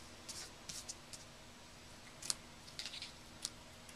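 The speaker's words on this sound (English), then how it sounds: "Take your scissors and cut it off." Scissors cutting a ribbon in a paper-craft setting, a few quick faint snips spaced irregularly over a quiet background.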